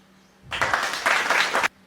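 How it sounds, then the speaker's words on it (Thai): A crowd applause sound effect fired from a pad button on a Maono Maonocaster AU-AME2 audio interface, a dense burst of clapping lasting just over a second that starts and stops abruptly. "อันนี้คือเสียงตบมือ"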